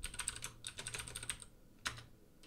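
Computer keyboard typing while entering a passphrase to restart an Apache server: a quick run of soft, close key clicks, a short pause, then one final keypress, with no talk.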